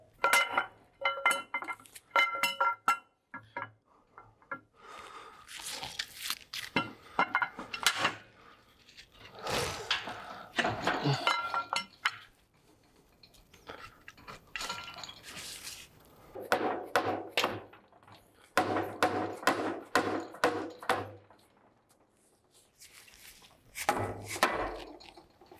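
Metal parts clank and clink up close while the camshaft is pulled from a Cummins 5.9 diesel engine during a teardown, in irregular bursts of knocks and rattles with quiet pauses between.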